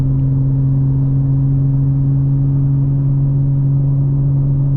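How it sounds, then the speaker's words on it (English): BMW M4 Competition with the S58 engine, running as a loud, steady low drone with a constant deep hum, holding even throughout rather than climbing in pitch. "This engine, the S58, absolutely a masterpiece"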